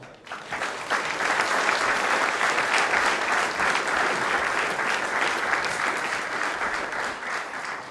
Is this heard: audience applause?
yes